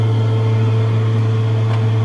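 A laboratory hotplate heater and magnetic stirrer running under a beaker during gold recovery with homemade nitric acid, giving a steady, loud electrical hum with a constant low drone and no break.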